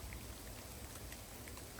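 Heavy rain pours down in woodland around a holly tree at a camp spot, a steady, dense hiss with scattered nearer drops pattering on leaves, faint and continuous with no voices.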